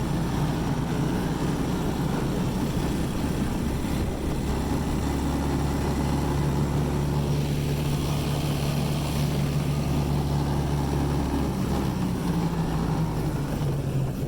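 Ice Bear mini jeep engine running in third gear, a steady droning hum that stays loud and close with a rising whine toward the end, and no talk.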